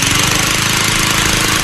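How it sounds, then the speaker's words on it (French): A lawn mower engine runs close and loud, a rapid, even chugging drone that holds steady without pause. "je te fais quand même écouter la tondeuse que j'ai,"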